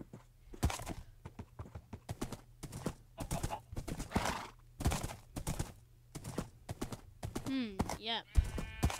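Minecraft horse whinnying at close range, with repeated sharp hoof clip-clops scattered throughout and a rising, wavering neigh near the end, while a person talks intermittently.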